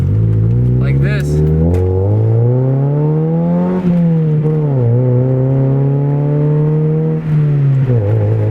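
A 2000 Honda Civic EX fitted with an aftermarket exhaust revs loudly and close by, the note swelling up and easing back in several long pulls, with brief voice sounds early on.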